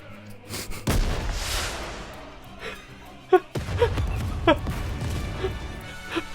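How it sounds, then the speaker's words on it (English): Rocket launcher shell exploding in the Nikke video game over a snowfield, a loud heavy boom followed by rumbling smoke and debris, with sharper impacts and gasping voices afterward. "a resounding explosion causes the entire snowfield to be blanketed in thick plumes of white smoke"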